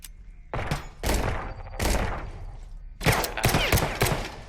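A gun turret firing in The Pit: Infinity video game: loud bursts of rapid shots in three clusters, each a dense rattling volley with booming low thumps, close and without speech.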